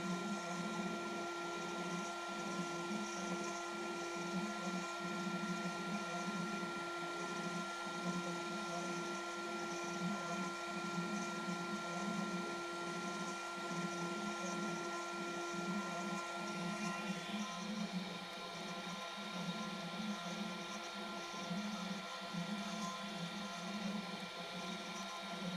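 A Pixel CNC machine cuts continuously with a steady high whine and a grinding, fluttering buzz beneath it, close and constant for about twenty-five seconds, shifting slightly near the end.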